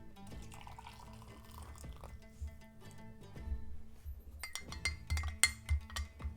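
Honey stirred into a cup of hot water with whiskey for a hot toddy, a spoon clinking against the mug and liquid swirling, gentle at first, then brighter, quicker clinks near the end.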